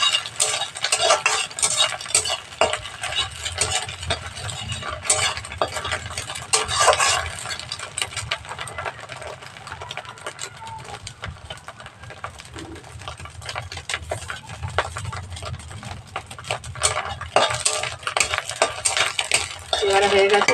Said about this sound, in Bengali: ডিমটাকেও ভালো করে বাদামি করে ভেজে নিতে হবে,